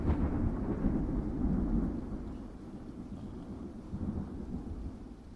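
Storm ambience with low rumbling thunder and a steady wash of falling hail or rain, loud and continuous throughout with slow swells, no voices.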